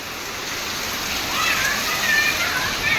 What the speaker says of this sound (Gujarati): ફૂલ એકદમ વરસાદ ચાલુ થઈ ગયો છે વણાટનગરની અંદર